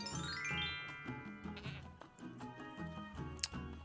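A goat bleats in the Jurassic World Evolution 2 video game, with several wavering cries layered over steady, bright game music.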